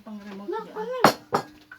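Plates and dishes clatter in two sharp bursts close by, right after a person speaks, with a faint clink trailing at the end.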